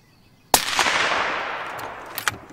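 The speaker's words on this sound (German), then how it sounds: "Das Rudel weiß erstmal gar nicht so genau, wie es den Schuss einordnen soll." A suppressed rifle shot fired while hunting fallow deer in May: one sharp, close report followed by a long decaying rumble and a few faint later knocks, with no voices.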